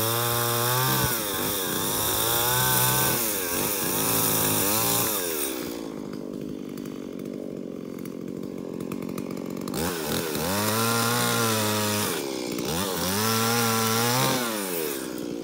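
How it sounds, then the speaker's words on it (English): Chainsaw delimbing a felled poplar tree during brush and pasture clearing, the engine revving loudly in repeated bursts and dropping to a rough idle between cuts, close and continuous. "Now let's start delimbing it."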